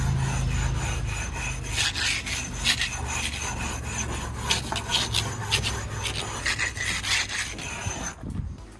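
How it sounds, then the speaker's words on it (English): A concrete block paver is rubbed back and forth against a garage's exterior wall, a loud, close, continuous gritty scraping with rhythmic strokes that stops abruptly near the end. "what I actually found a trick on YouTube is using one of these, just a block paver. And what you basically do, just rub down the surface"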